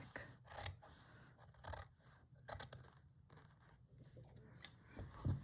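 Scissors snip through fabric and quilt wadding while making a French-style rice bag, giving a quiet series of close, crisp cuts spaced irregularly with soft rustling between them.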